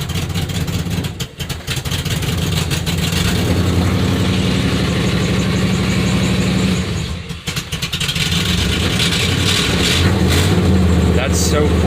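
A car fitted with true dual exhaust idles with a steady, deep low rumble, briefly dipping twice. Voices talk over it.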